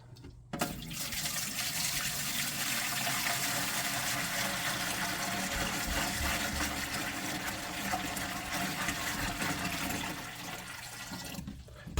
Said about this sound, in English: let's go ahead and fill this thing up with water